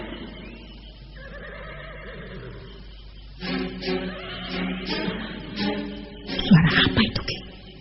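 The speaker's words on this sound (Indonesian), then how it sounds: "Suara kuda." A horse at night whinnies in a long, wavering call, followed by several shorter, louder neighs and snorts that grow in strength toward the end, heard alone without speech.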